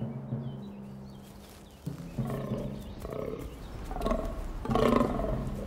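Fallow deer stags groan during the autumn rut in the Tatra mountains of Slovakia, a series of deep, rough, repeated calls building in loudness over a steady low background.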